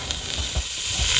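Meat sizzles and hisses loudly after being poured into a hot pot on a gas stove for yam porridge, a close, continuous frying crackle.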